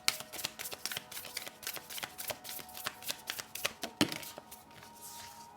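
A deck of cards is shuffled with a quick, crisp flurry of riffling snaps, close and fairly soft, ending in a final bridge and settle.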